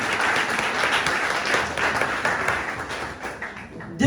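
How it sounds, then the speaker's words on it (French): A large audience at a university summer session applauds steadily and loudly, dense clapping filling the room almost without a break before briefly thinning near the end. "Vous pouvez vous applaudir, c'est vous."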